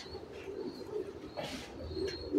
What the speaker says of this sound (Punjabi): ਇਹ ਮੇਰਾ ਵਾਲਾ ਕਬੂਤਰ ਹੈ